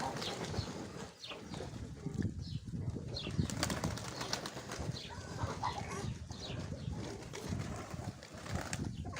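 Pigeons in a dovecote flap their wings in repeated soft bursts of fluttering, close and fairly quiet, with faint voices in the background.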